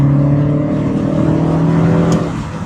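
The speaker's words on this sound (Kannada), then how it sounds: "ಏನು ಕ್ವಿಕ್ಕಾಗಿ ಹೋಗುತ್ತೆ ಗಾಡಿ." A Mini Convertible car accelerating quickly with the roof down, a loud, steady engine drone rising slightly in pitch, close up and continuous, with no talking.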